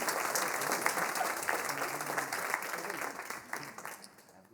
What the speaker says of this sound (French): Je crois qu'on peut encore toutes et tous s'applaudir.